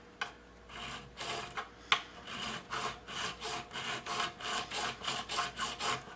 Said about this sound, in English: we'll do that with just this same flat file we used to clean out the glue from the old nut slot